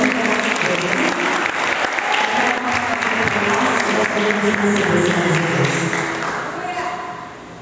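A church congregation applauds at a Sunday evening Foursquare family service, dense sustained clapping filling the room throughout, with crowd voices mixed in, tapering slightly near the end.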